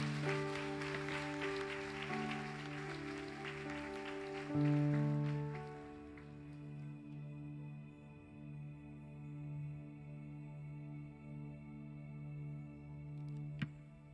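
A church congregation claps for several seconds, then the clapping fades out under sustained keyboard or organ chords that carry on alone, with one sharp knock near the end.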